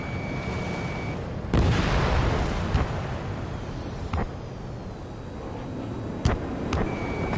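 Missiles fire and explode in the jet combat video game Ace Combat 7. A steady engine roar is punctuated by several sharp booming blasts, one near the start and a pair near the end.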